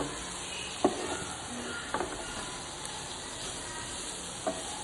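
Chopped onions and green chillies being stirred in a frying pan for a samosa filling, with a soft steady sizzle and a few sharp spatula scrapes against the pan at irregular moments.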